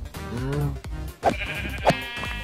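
A sheep in the Minecraft video game bleats several times, wavering calls close and clear against a low background.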